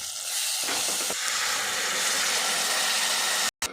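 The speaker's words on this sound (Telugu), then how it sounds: "మిక్సీ పట్టుకున్న టమాటా వేసేసుకోవాలి" Blended tomato hits a hot pan of cooked onions for chicken fry, giving a loud, continuous steamy sizzle and hiss close by that cuts off abruptly near the end.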